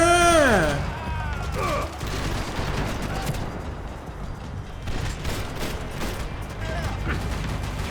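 Rapid gunfire in the Max Payne 3 shooter game, a dense continuous fusillade of shots and impacts filling the whole stretch, loud and close, with a voice heard over it.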